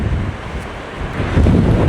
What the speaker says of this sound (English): Oh, it's way too windy